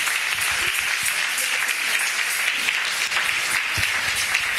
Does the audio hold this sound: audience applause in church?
yes